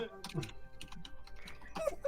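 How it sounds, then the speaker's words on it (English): Someone types on a keyboard as a sound effect in the video game Aviary Attorney: a short, quiet run of soft clicks with a faint voice underneath. "I hear someone typing."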